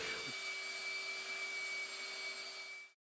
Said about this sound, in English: Now the glue's dry, I'm going to flatten the face of the board using the belt sander.